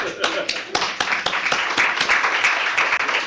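An audience applauds after a talk on social inequalities in maternal and child health, a dense, steady round of clapping with a few voices mixed in.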